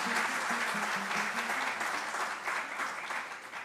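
An audience at a religious discourse on Lord Ram and Hanuman claps steadily for the hosting family, a dense sustained round of applause that holds level throughout and starts to thin toward the end.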